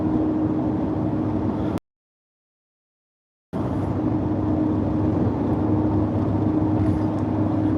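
A Raptor pickup truck with 19,000 miles on it drives along with a steady, even road and engine drone, interrupted by a brief total dropout in the middle.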